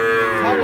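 A Sahiwal bull calf about five to six months old gives a single short, loud moo close by at the Ambari cattle market.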